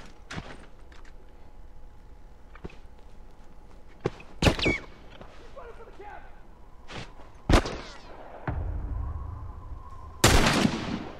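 Scattered sharp gunshots in The Last of Us, several single cracks spaced seconds apart against a quiet background, with a louder shot near the end and some movement noise between.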